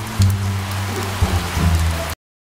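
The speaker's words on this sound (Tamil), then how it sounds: "சோனா காக்காவும் குட்டி காக்காவும் மழையில நனைஞ்சுக்கிட்டே இருந்தாங்க." Steady rain falling in an animated Tamil fairy tale about crows, a broad continuous wash of downpour with low rumble underneath, cutting off abruptly near the end.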